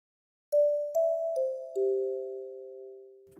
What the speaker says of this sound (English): basic brushed bells.